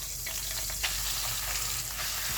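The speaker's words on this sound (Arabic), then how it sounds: "هشوح البصله مش هتاخد لون، البصله هتدبل بس" A medium chopped onion sautés in a pan after liver and gizzards were removed, giving a steady, close sizzle and crackle throughout with occasional stirring, softening without browning.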